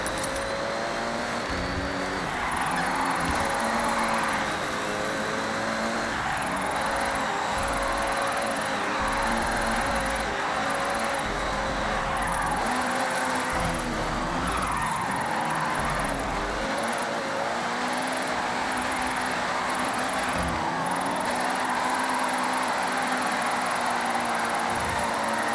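Car engine driving in Forza Horizon, an Italian exotic held at a sustained revving drone with shifting pitch as it accelerates and eases off, continuous and fairly loud, with no talk.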